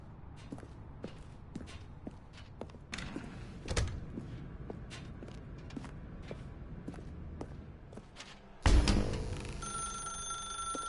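A telephone rings in The Stanley Parable video game, its sharp electronic ring cutting in loudly near the end after a stretch of quiet footsteps and faint thuds.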